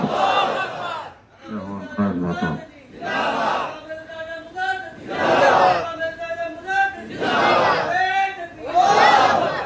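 A large crowd at a Zaker Party religious gathering answers a call in unison with a loud shouted takbir response, several waves of massed voices rising and falling, the leader's call heard between them.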